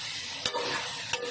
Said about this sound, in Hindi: 5 से 6 मिनट इसको अच्छी तरह से भून लेंगे हम। गोश्त बिल्कुल फ्राई हो जाएगा।